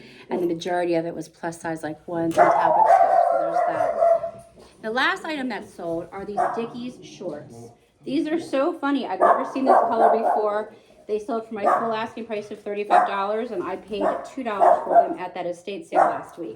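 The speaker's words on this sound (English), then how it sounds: "Sorry about the dogs." Dogs bark intermittently in the background while a person talks continuously over them.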